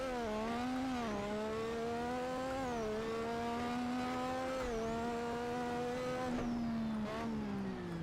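Classic Formula 1 car in the Assetto Corsa racing game, high-pitched engine wailing at steady revs with repeated downshift dips and popping bangs on the overrun, loud and continuous with no voices.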